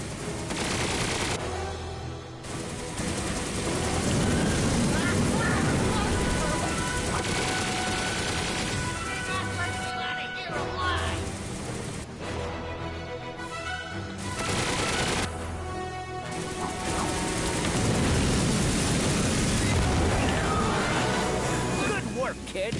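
Rapid bursts of gunfire and explosive weapon blasts from the Ratchet and Clank video game, loud and dense throughout with brief lulls, over a busy game soundtrack and voices.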